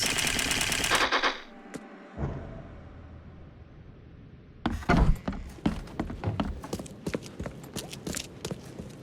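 Gunfire in the horror video game The Sinking City: after a quiet stretch, a burst of sharp, close shots crackles in quick irregular succession, with a short noisy rush at the start.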